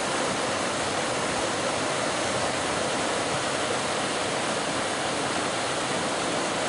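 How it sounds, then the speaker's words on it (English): A fast-flowing little stream spilling over tiny waterfalls on a New England foliage trip, a constant broadband rush of water that stays steady and close throughout with no voices. "It's like a fast flowing little stream with a little tiny waterfalls."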